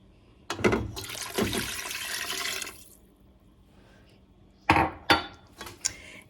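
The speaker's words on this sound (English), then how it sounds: "Okay, I added in my extra broth." Broth is poured into a cooking pot, giving a short splashing rush of liquid, then a pause and a few briefer pouring splashes and clinks close by, with no talking.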